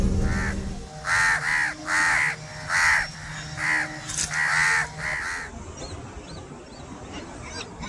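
Crows in the beach town of Carpinteria, California, give a run of seven loud, close caws in steady rhythm, then fall quiet, leaving faint outdoor background noise.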